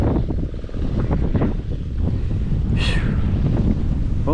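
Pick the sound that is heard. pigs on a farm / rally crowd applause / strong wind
strong wind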